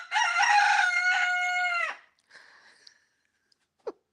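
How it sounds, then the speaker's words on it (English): A young rooster crows once, loud and close, in a long, drawn-out call lasting about two seconds, followed by a fainter, shorter sound and a sharp brief note. "when you first hear them crow, it's the cutest thing ever"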